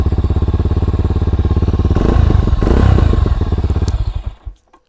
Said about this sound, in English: Bike started, happy with that